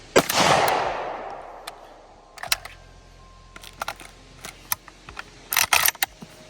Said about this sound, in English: I am out, so I'm going to take the magazine out. I'm going to put the new one in, and you have to always rack it again